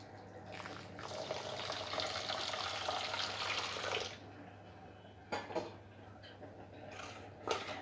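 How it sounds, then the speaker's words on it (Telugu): Hot water poured into a bowl of sugar and dry yeast for bun dough, a steady close splashing stream for about four seconds, then a few light clinks and taps. "ఈస్ట్ వేసిన తర్వాత కొద్దిగా వేడి నీళ్ళు వేసుకోవాలి"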